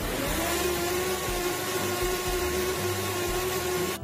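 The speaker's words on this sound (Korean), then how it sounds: "사과, 양파, 식힌 풀물, 마늘을 넣고 갈아주겠습니다" A blender grinds apple, onion, cooled porridge and garlic for kimchi seasoning, giving a loud, steady, close motor whir that holds an even pitch throughout.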